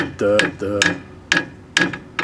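A clogged exhaust heat riser on a 1970 VW Bus is tapped five times, the first two with a ringing resonant tone and the later three duller and lighter, spaced unevenly.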